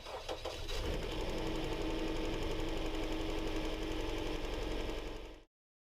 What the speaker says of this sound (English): We'll crank the engine and verify that the coil has the output necessary to fire the spark